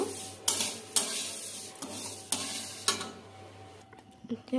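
Vermicelli (semai) fries lightly in ghee, giving a close, continuous sizzle with regular scraping stir strokes against the pan about every half second and a few clinks of the utensil near the end.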